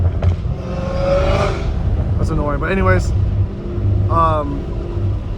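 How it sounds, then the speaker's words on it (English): A Dodge Hellcat Redeye's supercharged engine and exhaust rumble low and steady from inside the car while someone talks over it throughout. "what gives me like reassurance about this car is the way it sounds, like the supercharger whine and the exhaust"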